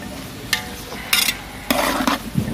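Chopped bottle gourd and eggplant cook in a pan on a home stove, with a steady soft sizzle and occasional scraping stirs of a spoon against the pan.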